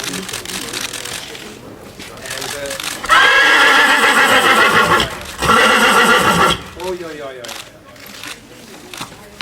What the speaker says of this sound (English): one of our best horses